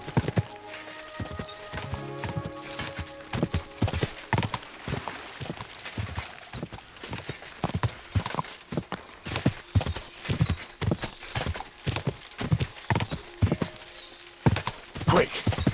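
Steady hoofbeats of a horse trotting along in Kingdom Come: Deliverance II, an even run of clip-clops heard close and clear throughout, with a brief whinny early on.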